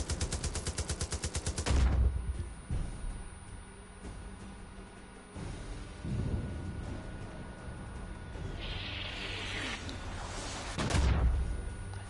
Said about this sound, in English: All the mortars are firing where the sound effect was.